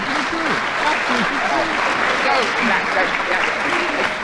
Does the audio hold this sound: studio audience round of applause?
yes